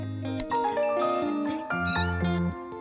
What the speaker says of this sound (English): a kitten is born on a farm